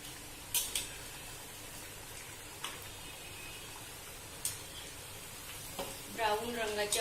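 Food fries gently in oil or ghee until it turns brown, a dish made for breaking a Shravan Monday fast. A faint, steady sizzle runs throughout, with occasional utensil clicks and taps, and a voice speaks briefly near the end.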